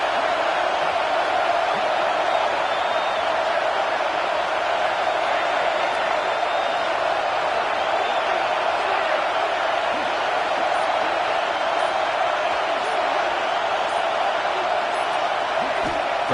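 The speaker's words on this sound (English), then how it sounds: "This crowd is trying to inspire this defense to make a big red zone stop." A football stadium crowd roars during a defensive red zone stand, a loud, continuous wash of cheering and noise that holds steady throughout.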